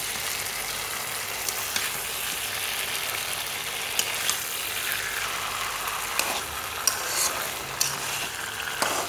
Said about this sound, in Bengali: শুধু নাড়তেই থাকবেন আর নাড়তেই থাকবেন, যত নাড়বেন ততই কিন্তু টেস্টি হবে।